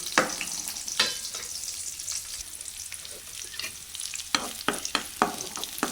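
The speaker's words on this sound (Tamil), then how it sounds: "வெங்காயம் சேர்த்துடலாங்க பெரிய வெங்காயம் ஒரு வெங்காயம் வெங்காயம் வதங்கட்டுங்க" A large onion sautés in a pan with oil and reddened dried red chillies for a drumstick-leaf stir-fry, giving a continuous close sizzle broken by repeated scraping stirs of a spatula, with no talk.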